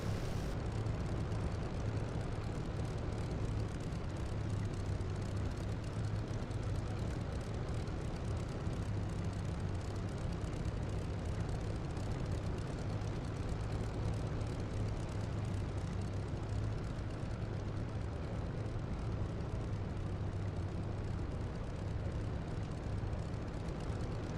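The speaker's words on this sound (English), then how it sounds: "Okay, I'm taxiing." Aircraft taxiing in a flight simulator game, a steady, loud engine drone with a constant low hum that holds unchanged throughout, with no voices over it.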